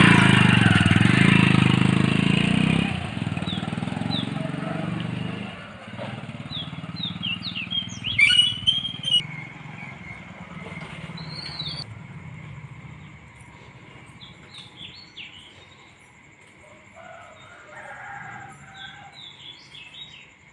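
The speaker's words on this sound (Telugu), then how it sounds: "చూశారు కదా పక్షుల అరుపులు అలాగే కోళ్ళు అన్నీ అడుస్తుంటాయి" A low rumble fades out, then birds chirp in short repeated tweets at early morning in a village, with a rooster calling in the distance.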